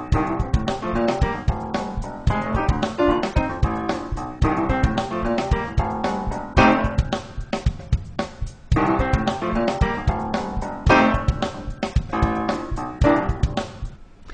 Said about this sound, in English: We'll just play our groove and then throw in some of those hits on the downbeat with sort of right-hand glissandos